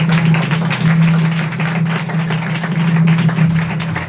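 A church congregation at a Sunday service clapping loudly, a thick, continuous wash of many hands that holds at full volume from start to finish, with a low steady hum running underneath.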